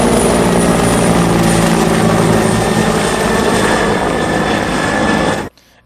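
A helicopter flies overhead in news footage, a loud, steady, close rotor and engine roar holding constant for over five seconds before cutting off abruptly.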